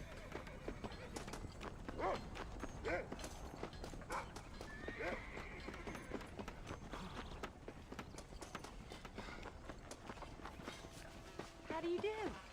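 Horse hooves in the video game Red Dead Redemption clip-clop quietly in short bursts, with a few whinnies and snorts, set against game ambience and intermittent talking.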